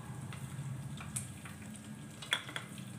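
Garlic and chili paste frying in a pan with peanuts for spicy masala bhindi, a soft steady sizzle with a few sharper crackles and stirring clinks, close and moderately loud, with no talking.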